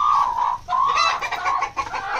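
A bantam hen clucks repeatedly in short, uneven bursts, close by, with no other sounds.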